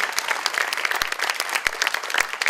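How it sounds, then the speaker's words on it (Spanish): An audience applauds at a theatre performance by Colombian players in Villa El Salvador, with steady, dense clapping from a crowd throughout and a few sharp, louder claps standing out close by. "Quiero pedir un fuerte aplauso para todos nuestros padres"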